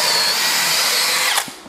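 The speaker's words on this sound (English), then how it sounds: "now we are going to try it on wood. And this time we'll go for the drilling mode" A Makita 40V XGT cordless hammer drill in drilling mode, in second gear at high speed, bores into wood with a loud, steady high whine. The pitch drops as the bit winds down, followed by a couple of faint knocks.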